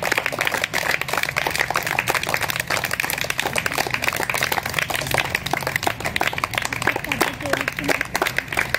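An audience at a karate martial arts academy award ceremony claps continuously, a dense patter of many hands throughout, with a voice talking over it.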